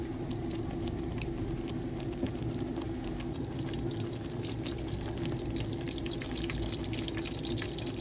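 Naan frying in hot ghee gives a steady, even bubbling hiss, continuous and close, with no clear breaks or separate strokes.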